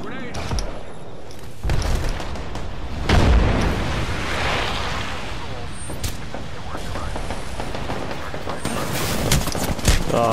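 A grenade in Apex Legends goes off with a loud blast partway through, mixed in with ongoing gunfire, impacts and busy combat noise, while people talk over the action.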